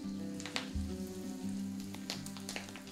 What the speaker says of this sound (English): We're going to place the triangles in the hot oil, paste side down, and cook them for 1 to 2 minutes.